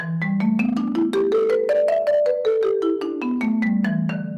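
Bright wooden mallet notes on a marimba climb and descend a five-note pentatonic scale, evenly spaced strikes ringing cleanly without any talk.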